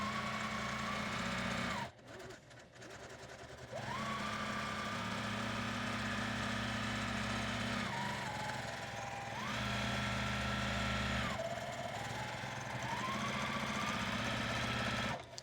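A sewing machine stitches a closed channel along the curve of a fabric cover for a 9x13 glass pan, its motor humming steadily in long runs that pause and restart, with a short stop-and-go stretch for backstitching.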